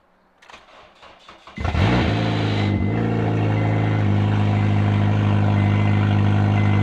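A car engine cranks briefly, catches and fires up loud and close, then settles into a steady, strong idle with a slight rev; a project car with roughly 161 thousand on it and little fuel in the tank.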